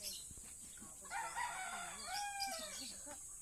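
Roosters crow repeatedly at a gamefowl farm, several overlapping calls at close to middle distance with faint clucking and a steady high background hiss.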